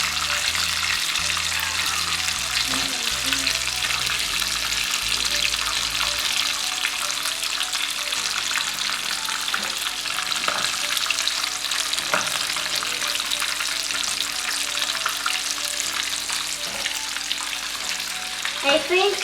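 Fish fingers frying over a campfire, a loud continuous sizzle and crackle with steady fizzing, faint low knocks early on, no voices.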